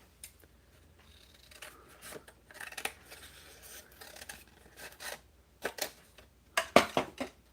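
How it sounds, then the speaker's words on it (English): Scissors snipping through paper while trimming a cutout, a few scattered close cuts that bunch into a quicker run of sharp snips near the end. "So let's just trim this down a little bit."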